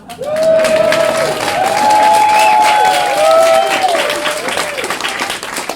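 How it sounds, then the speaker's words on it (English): A crowd at a book launch clapping and cheering loudly, with a steady mass of applause under rising whoops and sustained shouts that swell in the middle and ease off toward the end. "I want to say to Ken Loach, Clap if you want."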